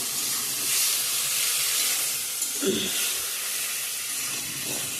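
Masala paste of tomato, onion and chili fries in a pan with a steady soft sizzle and hiss, and a brief stir or clatter partway through, heard at moderate level with no talking.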